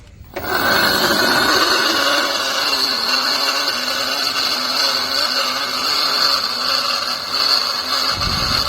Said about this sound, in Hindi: तो फ्रेंड देखिए, मोटर का बहुत गंदा आवाज़ है।